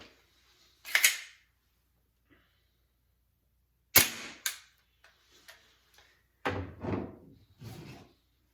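One sharp, close pop from a CoolFire recoil training system firing a shot, followed by a few quieter clicks and handling rattles in an otherwise quiet room.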